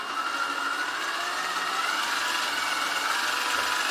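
A small electric motor and gearbox inside a 1/14 scale Tamiya RC Volvo FH12 truck whir steadily as the shaft spins in gear, a faint, even mechanical hum.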